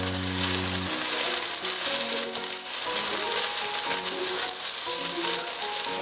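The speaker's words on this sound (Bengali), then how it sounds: "চালটাকে এবার খুব ভালো মতন ভাজতে হবে।" Rice fries in a hot pan for rui fish polao, a continuous loud sizzle with soft stirring scrapes, close up and without talk.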